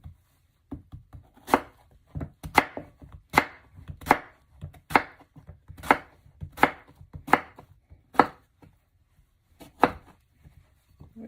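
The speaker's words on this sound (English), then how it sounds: "so let's chop up the zucchini" A knife chops zucchini on a cutting board, a steady series of about a dozen crisp, close thunks at an even, unhurried pace with no voices.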